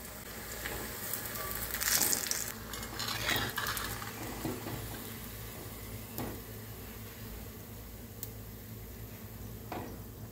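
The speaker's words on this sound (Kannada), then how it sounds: "ಹೀಗೇನೆ ಕಡಲೆ ಹಿಟ್ಟಲ್ಲಿ ಡಿಪ್ ಮಾಡಿ ಎಣ್ಣೆಗೆ ಬಿಟ್ಟರೆ ಆಯಿತು" Upma bondas dipped in gram flour batter and dropped into hot oil, giving a steady sizzle of frying under repeated clinks and scrapes of a metal utensil against the pan.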